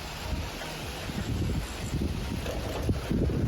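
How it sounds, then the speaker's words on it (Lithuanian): Strong gusty wind buffets the microphone outdoors at a house construction site, a steady low roar with rumbling bursts that lasts throughout, with no voices. "Gal vėjas nenupus, nes šiandien turim uraganą."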